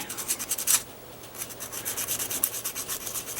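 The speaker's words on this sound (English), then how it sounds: "This is 600 grit, and you just lightly sand the nub away." 600-grit sandpaper lightly sands the nub off a plastic model part, making soft, close scratchy rubbing in short repeated back-and-forth strokes.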